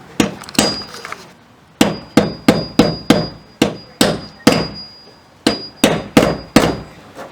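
Repeated hard hammer blows on a center punch into metal in quick bursts, sharp ringing taps close up, pausing briefly between groups of strikes.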